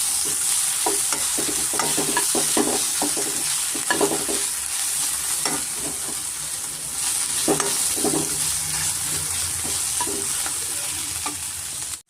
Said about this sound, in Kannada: ಇದಕ್ಕೆ ನಾನು ಶುಂಠಿ ಬೆಳ್ಳುಳ್ಳಿ ಪೇಸ್ಟು ಒಂದು ಸ್ಪೂನ್ ಸೇರಿಸ್ಕೊತಾ ಇದ್ದೀನಿ ಅದನ್ನು ಸ್ವಲ್ಪ ಮೇಲೂ ಹೋಗೋವರೆಗೂ ಸ್ವಲ್ಪ ನಾವು ಫ್ರೈ ಮಾಡ್ಕೊಬೇಕಾಗುತ್ತೆ